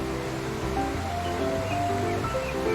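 Savtsada waterfall near Marleshwar temple sends a constant rushing wash of falling water, heard nearby with faint tonal sounds layered above, and no voices.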